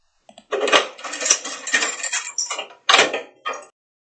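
A wooden door in a children's story about the three little pigs closes and a lock turns, heard as a series of close, distinct clacks and rattling clicks.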